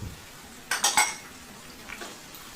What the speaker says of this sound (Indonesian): Diaduk lagi biar semuanya tercampur rata.